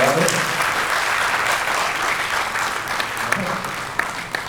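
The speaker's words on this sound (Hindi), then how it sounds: "तालियां बजाते हैं, थोड़ी देर के बाद" A theatre audience applauds steadily at a stage performance during a dance, song and play production, the dense clapping filling the whole stretch at an even level with a few sharper individual claps.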